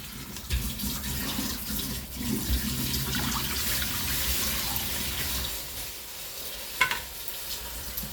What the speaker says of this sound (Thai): ตั้งกระทะครับ เติมน้ำนะครับ